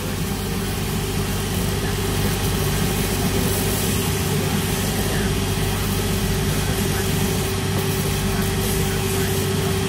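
A shoe repair finishing machine spins its smooth wheel against a shoe heel, producing a loud, constant motor drone and whir that holds steady for ten seconds.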